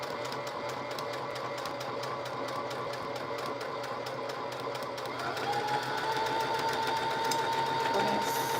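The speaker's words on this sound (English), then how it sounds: "We're going to straight stitch all the way down." A sewing machine runs a steady straight stitch down the side of a faux feed sack, its fast, even needle chatter close and continuous, shifting pitch slightly partway through.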